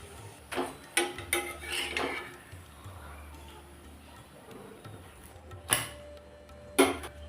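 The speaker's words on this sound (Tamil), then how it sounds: "பரோட்டா ஃப்ரை பண்ணி எடுத்ததும் சூடாக இருக்கும்போதே இப்படி அடித்து கொடுக்கணும்" Freshly fried hot parotta, hotel style, being beaten by hand: a handful of sharp slaps and knocks spaced irregularly over a faint kitchen background, close, with quieter clatter in between and no talking.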